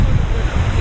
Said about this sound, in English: It's a little bit choppy here. As you can hear and see.